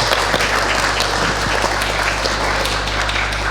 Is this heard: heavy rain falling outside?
no